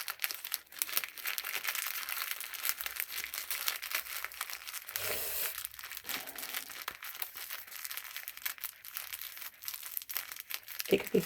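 Crinkly foil-like material is folded and tucked by hand, giving continuous close crackling and rustling, with a person speaking intermittently over it.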